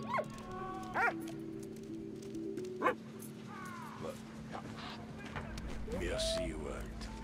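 Dog barks and yips from the Valiant Hearts: The Great War game, a few short sharp calls scattered over a steady background hum and game music, with talk around them.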